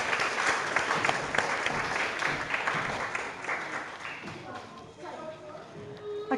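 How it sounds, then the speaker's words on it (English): Audience applause at a 2020 award presentation for Community Service Award winner Sue O'Brien, a dense clapping wash that gradually thins, with a voice starting to speak near the end. "Please give her a round of applause."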